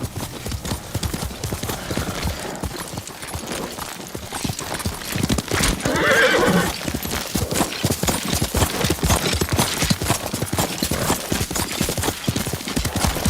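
Rapid, continuous hoofbeats of a galloping horse in the video game Ghost of Tsushima clatter throughout, with a whinny rising briefly in the middle, all loud and close.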